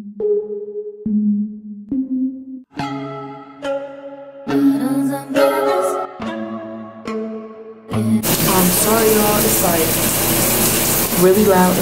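A shower in a bathroom bursts on and runs loudly as a continuous hiss of spraying water, following a short run of electronic tones, with no talking.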